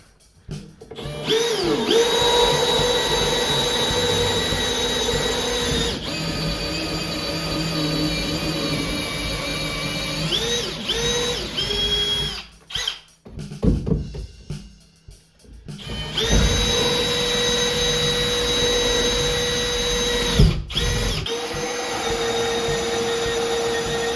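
Power drill boring diagonal holes through wood framing for electrical wiring, a steady loud whining motor run in long bursts, broken by short pauses and a brief gap mid-way.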